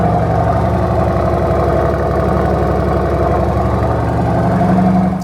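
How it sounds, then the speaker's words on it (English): A Lamborghini Urus SE twin-turbo V8 cold-starts into a loud, steady low rumble with a fast throbbing pulse, heard up close and holding constant throughout with no voices. "There's a cold start. The rumble of that twin-turbo V8."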